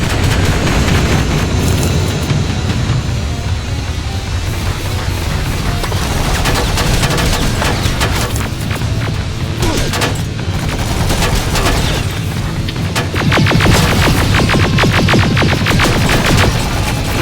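Sustained heavy gunfire in the video game Terminator Resistance, with loud, continuous automatic bursts and rapid shots layered over booming explosions in a constant, chaotic firefight.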